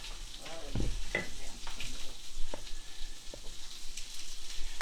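Meat sizzles loudly in a hot skillet on high heat, a close, crackling fry broken by a few sharp clinks and scrapes as it is stirred.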